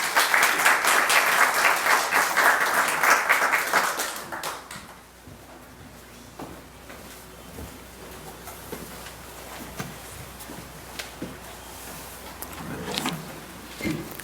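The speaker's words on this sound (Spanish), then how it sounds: "Para Sara, un fuerte aplauso, por favor." Loud audience applause fills a conference hall for a marine science colloquium in Peru, a dense crowd clapping for about four seconds before fading into a quieter room with scattered taps and faint background noise.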